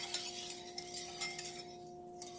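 Eggs whisked in a bowl for a baked omelette frittata, heard as soft, quick clinking and scraping strokes of a whisk against the bowl, steady and fairly quiet throughout.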